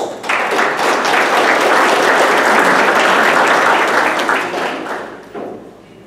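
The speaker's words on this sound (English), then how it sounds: "Please give him a round of applause." A crowd claps loudly and steadily for several seconds, swelling at the start and tapering off toward the end.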